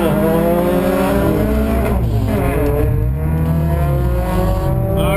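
A race car launches down a drag strip with a loud, close, sustained engine roar that climbs in pitch as it pulls away.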